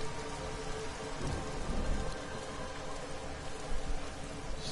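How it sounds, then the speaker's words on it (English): Steady heavy rainfall with a low rumble of thunder rolling underneath, from a stormy scene in the video game Everybody's Gone to the Rapture, continuous and fairly close without any voices. "There's thunder."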